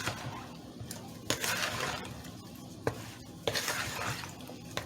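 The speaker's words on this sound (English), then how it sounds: "we're just going to get my wooden spoon here and mix it up" Wooden spoon stirring mandarin oranges with their juice and Jell-O powder in a bowl for a summer dessert salad, giving a steady scraping, sloshing texture with a few sharper knocks against the bowl, close and moderately loud.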